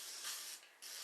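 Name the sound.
oil mister spraying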